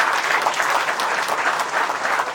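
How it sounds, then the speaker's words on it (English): An audience at the opening of a double squash court in Guyana claps for past athletes, a steady, even burst of applause from a crowd filling the room. "And I think we should applaud all the past athletes."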